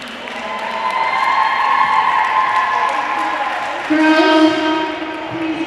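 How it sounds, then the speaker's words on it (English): Crowd applause in a school gym at a varsity volleyball game, a steady wash of clapping with some cheering that swells partway through, heard alongside a voice talking over it. "Can we give a round of applause for the Miss Spirits"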